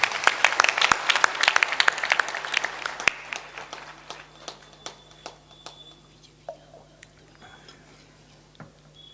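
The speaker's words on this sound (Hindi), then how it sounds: "ताली बजाकर उनका अभिनंदन करें।" A crowd at a spiritual discourse claps for the chief guest, the applause dense and fairly close at first, then thinning over several seconds into scattered single claps that fade out.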